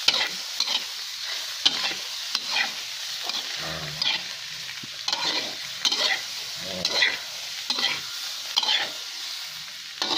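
Silkworm pupae stir-fried in a pan: a steady hot sizzle broken by repeated scraping strokes of a utensil against the pan, roughly one every second, close and loud with no talk.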